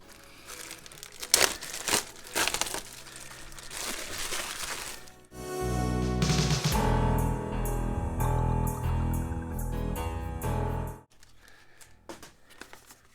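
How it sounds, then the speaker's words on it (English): The packaging of a Tomee AC adapter for the PS Vita is opened, giving close crinkling and tearing of plastic and cardboard, with scattered rustles first and then a louder sustained crumple. "So let me go ahead and unbox this and take a look."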